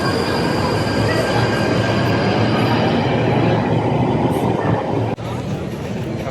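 A London train ride on rails gives a loud, continuous rumble heard from inside the carriage, with wheel squeal and a sharp clunk near the end. No one speaks.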